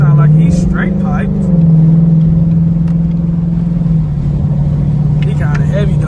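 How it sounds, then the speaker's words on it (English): A Chrysler car with a straight-piped exhaust idles and revs nearby, a loud steady low drone that swells briefly, while someone talks over it. "That sound like he's straight piped."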